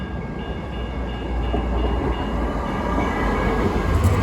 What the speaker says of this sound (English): on the bridge, coming up the bridge right now, is train 119